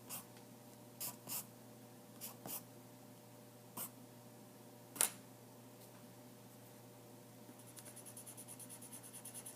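Colored pencils blend on paper in faint, scattered scratchy strokes over a quiet hum, ending in a run of quick rhythmic scribbling.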